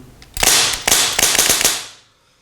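Begadi HW47 Polarstar HPA AK47 airsoft rifle firing a quick burst of about six sharp, loud, close cracks in rapid succession, with the sound trailing off quickly afterwards.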